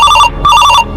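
A telephone rings loudly and close by, two short electronic trilling bursts separated by a brief gap.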